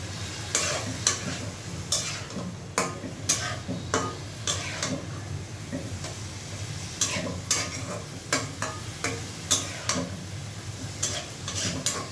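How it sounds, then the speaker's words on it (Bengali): A spice paste sautés in a pan for a Noakhali-style taro stolon and chili dish, a steady close sizzle broken by frequent sharp spatula scrapes and taps in an irregular rhythm. "এই যে মশলাটাকে কষিয়ে নিলাম"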